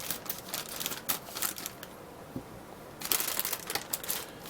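Packaging of a 1/25 Moebius 1968 Ford F-250 Custom Cab model kit being cut open, with close, faint crinkling and scraping bursts broken by a short quiet pause midway.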